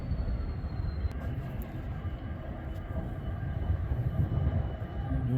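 A CN freight train arriving southbound at Ladysmith makes a steady, heavy low rumble that holds at a constant loudness throughout, with no voices.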